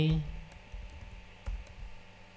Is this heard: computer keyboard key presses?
yes